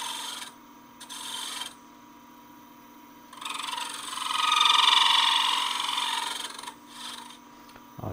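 A half-inch spindle gouge making a draw cut on wood spinning on a lathe, giving close, steady rasping scrapes in several bursts, the longest swelling and fading mid-way, over a constant motor hum with no talking.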